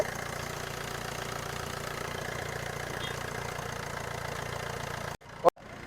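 A Tata Zest car engine idles steadily after starting, a close, even mechanical hum that cuts out briefly near the end before resuming.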